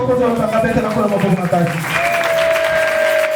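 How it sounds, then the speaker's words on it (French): A congregation at a church service applauds and cheers in a dense wash of clapping, while raised voices and a sustained tone run through it throughout. "Si tu m'écoutes, acclame pour Jésus."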